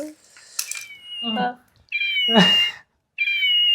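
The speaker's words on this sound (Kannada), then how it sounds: "ಪಾಪು ಅಳ್ತಿದೆ ಬೆಕ್ಕು" A cat meows plaintively several times, drawn-out high cries close by, with short pauses between them.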